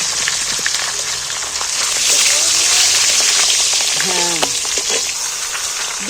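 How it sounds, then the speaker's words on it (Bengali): Fish heads, rubbed with salt and turmeric, sizzle and crackle steadily in hot oil in a pan, a dense frying hiss with occasional pops and faint background sounds. "এইবার আমি মুড়োগুলোকে ভেজে নেবো একটা একটা করে একটা একটা করেই ভাজবো"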